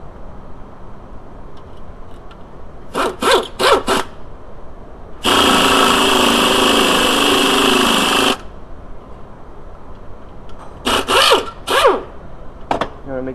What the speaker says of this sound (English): Just using an air gun for speed and convenience.